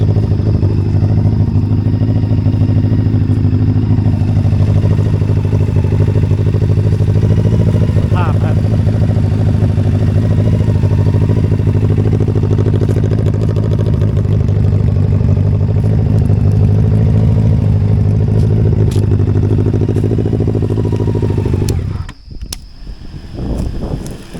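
A motorcycle engine runs loud and close during a test ride, a steady rumbling drone held throughout before it suddenly cuts out near the end.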